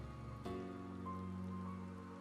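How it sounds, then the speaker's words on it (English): Steady rainfall in the video game Final Fantasy XIV: Shadowbringers during a cutscene, a soft continuous hiss lying under sustained musical tones. "I like the fact that it's raining as well."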